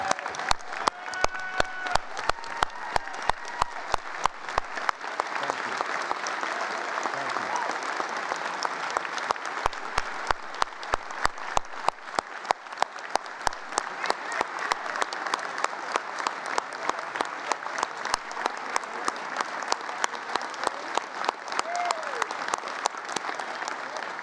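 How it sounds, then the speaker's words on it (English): A large convention audience at a labour federation gathering applauds steadily, dense sustained clapping from many hands that fills the room throughout, with scattered sharper claps standing out. "Please give them a great round of applause"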